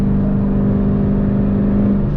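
Inside a Dodge Challenger on a clutchless upshift into sixth gear, a loud, steady engine drone with a smooth mechanical whir fills the cabin without a break.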